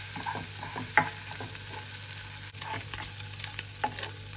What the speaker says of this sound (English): You only fry until the bacon is just beginning to brown.